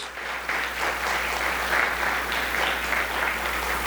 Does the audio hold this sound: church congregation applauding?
yes